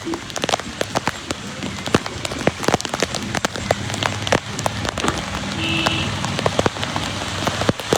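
Heavy rain pours steadily over Dwarka, a dense, close hiss of drops drumming on surfaces with sharp individual splats throughout.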